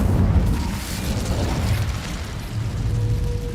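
A fiery Incendio spell cast in the video game Hogwarts Legacy, heard as a loud, sustained roaring burst of flame with low rumbling crackle, running steadily for a few seconds with no talk over it.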